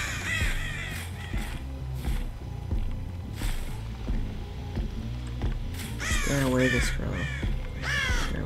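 Harsh crow caws from the Dead by Daylight video game come in scattered bursts, the loudest cluster near the end, over steady low game ambience with some speech mixed in.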